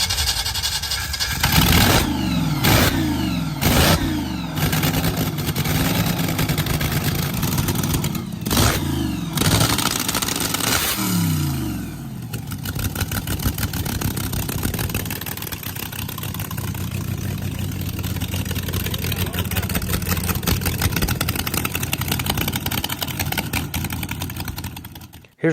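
A slingshot dragster's blown small block Chevy with a two-port Hilborn setup barks through sharp repeated throttle blips, then settles into a loud, lumpy, continuous idle rumble close by.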